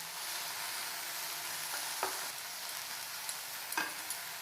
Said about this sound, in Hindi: 2 मिनिट खंडे आमे ताको भाजिबा।